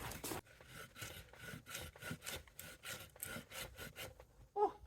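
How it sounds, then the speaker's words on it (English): A hand saw cuts through a fallen tree trunk in steady back-and-forth strokes, close and fairly loud, with a rough rasping rhythm of about ten strokes and a brief higher squeak at the end. "I don't even think I'm sawing anything anymore."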